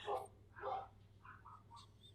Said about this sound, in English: I wonder if you can hear my dogs.